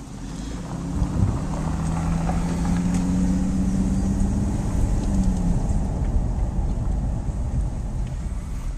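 A car drives home from a cottage near Galena, Maryland, with a steady low road rumble and wind noise inside the cabin and no talking.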